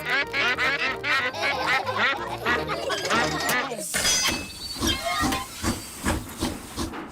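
Cartoon ducks from Peppa Pig quack in a rapid rhythmic chorus, then a steam train hisses with a rhythmic chuffing, all fairly loud and close.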